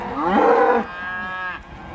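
Cows grazing out in a field give a loud, close moo followed by a second drawn-out lowing call, two calls in quick succession with nothing else heard.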